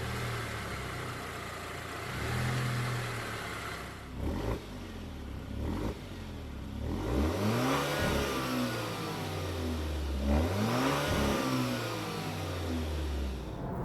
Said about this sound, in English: Now, when you rev it up, it does clear its throat a little bit